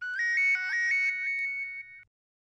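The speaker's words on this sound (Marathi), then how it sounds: "अरे रिंग वाजते आहे पण कुणी उचलत नाहीये." A new mobile phone's melodic electronic ringtone plays clearly and alone for about two seconds, repeating its tune before it cuts off into silence.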